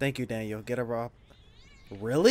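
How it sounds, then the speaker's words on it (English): A pet cat gives one drawn-out, wavering meow between stretches of people talking, fairly faint and a little distant. "That's my cat."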